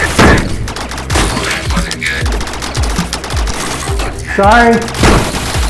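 Rapid bursts of automatic gunfire from a Rec Room VR shooter crackle continuously, with repeated close shots and brief booms while players talk over the fighting.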